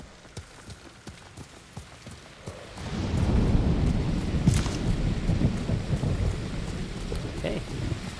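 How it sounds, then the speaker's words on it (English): Thunderstorm ambience in the video game Ghost of Tsushima, heard while riding a horse at night: faint rain and soft ticks at first, then a loud, sustained rumbling wash of thunder and heavy rain from about three seconds on. "The thunderstorm brewing overhead."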